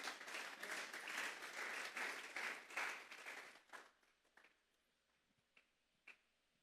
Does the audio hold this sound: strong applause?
yes